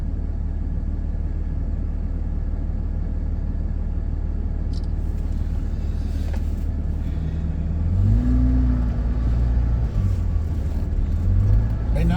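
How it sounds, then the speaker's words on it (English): A truck cruises at about 77 mph on a park road through Joshua Tree National Park, giving a steady, loud engine and road rumble throughout. The pitch climbs in the latter half as it speeds up. "Right now I got 77 on the truck, which it feels like about 80."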